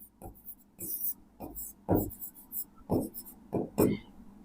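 Pen writing out maths working by hand on paper: short scratchy strokes in bursts, close and clear, with brief pauses between groups of marks.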